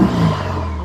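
The flat-four engine of a Porsche 356 Speedster with a four-speed gearbox revs briefly, a close, throaty mid-pitched burst that settles into a steady hum.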